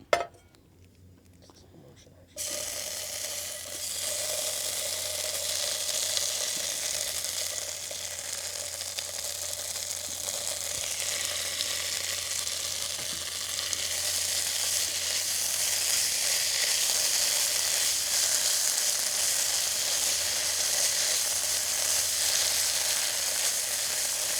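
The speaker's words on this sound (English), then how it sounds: "I'm making some chorizo and eggs." Chorizo and eggs sizzle and fry in a GreenPan camping pan, a steady, close crackling hiss that starts abruptly after a brief quiet opening and continues evenly, faintly growing louder toward the end.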